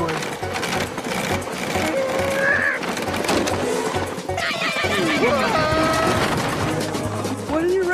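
A stagecoach horse neighs loudly amid clattering hooves and busy background noise in a cartoon, with voices talking over it.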